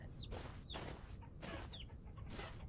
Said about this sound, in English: We have baby chickies!